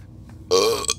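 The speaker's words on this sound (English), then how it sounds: "The burps are real." A single loud, close burp, short and throaty, heard alone after a brief quiet.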